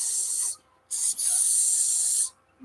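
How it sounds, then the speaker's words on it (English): A spray can sprays paint onto a freshly painted wall: a short hissing burst, a brief pause, then a longer steady hiss, close and loud with no talking. "somebody's gonna go with the spray can, and then you're gonna hear"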